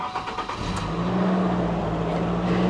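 A small two-wheel-drive Ford Maverick pickup engine runs close by, a steady low hum that rises slightly and holds without pause.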